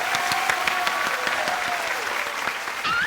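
A studio audience on a Taiwanese variety show claps and cheers to welcome guests, dense sustained applause throughout, with music and a rising tone running beneath the clapping.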